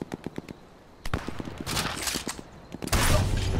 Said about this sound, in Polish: już nawet słyszę strzałów pełno